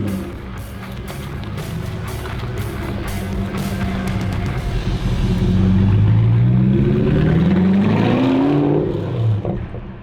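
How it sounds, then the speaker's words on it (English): A Ford GT with a new titanium exhaust system drives nearby, its engine note droning steadily and then swelling as it accelerates, with the pitch climbing toward the end. "see how it sounds with our new exhaust system"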